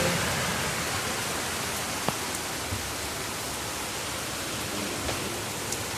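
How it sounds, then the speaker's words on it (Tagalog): Heavy rain pours down over a neighborhood in Muscat, a steady, dense hiss of falling water that stays even throughout, with a few faint drips or knocks standing out now and then. "Ayan, it's so heavy rain over here."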